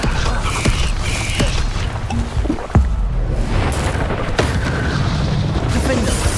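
A Bombarda spell explosion in the Hogwarts Legacy video game booms amid a dense, continuous wash of battle noise, with a sharp low thump near the middle and scattered impacts around it.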